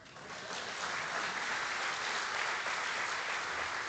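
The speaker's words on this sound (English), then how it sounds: "Give me a round of applause." An audience at a financial inclusion conference opening ceremony breaks into applause, swelling within the first half second, then holding as a dense, steady wash of many hands clapping at even loudness.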